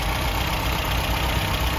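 A rebuilt 1969 MG B engine runs steadily at idle, a close, continuous mechanical hum with no voices.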